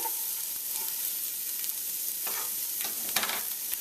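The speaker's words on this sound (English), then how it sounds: "Right away I'm gonna go in with my onions." Onions sizzle in hot olive oil in a pot, a soft steady frying hiss with a few light stirring scrapes and pops, close and alone.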